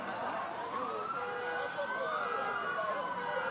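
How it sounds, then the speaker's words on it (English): Multiple police car sirens wailing continuously from a distance around a DC neighborhood where a black bear is up a tree, overlapping rising and falling tones steady throughout. "Those are the sirens of all the police cars around here."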